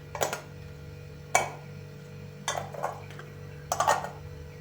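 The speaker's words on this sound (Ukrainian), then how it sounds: "Кришки обов'язково стерилізуємо і накладаємо на банки." Sterilized metal lids are set onto glass jars of pickled cucumber salad, making four separate clinks spread across a few seconds against a quiet kitchen background.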